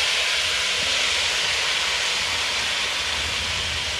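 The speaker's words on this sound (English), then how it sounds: "we're going to put this into that pot where the kielbasa grease is, and we're going to let it cook" Chopped onion cooking in hot kielbasa grease in a pot, a loud, dense, continuous sizzling hiss heard close up and unbroken throughout.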